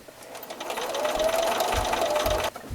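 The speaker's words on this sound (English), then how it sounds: "be sure you're sewing close to the cording" Stitching piping cording around the corner of an embroidered pillow, a sewing machine runs in a short, close, continuous hum with slight speed changes and soft thumps, ending abruptly.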